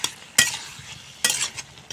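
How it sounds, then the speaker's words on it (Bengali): Boiled papaya is stirred into fried spice paste in a pan, with two loud spatula scrapes over a soft background sizzle and a lighter scrape near the end. "পেঁপে দিয়ে মশলার সঙ্গে ভালো করে মিশিয়ে নেব।"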